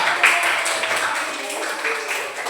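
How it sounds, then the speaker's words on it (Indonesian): Students in an elementary school classroom applaud for a group, a brief burst of clapping mixed with children's voices and chatter at close range. "Tepuk tangan untuk kelompok 2."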